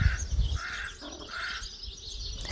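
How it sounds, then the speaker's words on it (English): A crow calls near a chicken area, its harsh caws standing out as a few short bursts over faint outdoor background. "Here you can see both Cinnamon and Rowan on high alert when a crow calls."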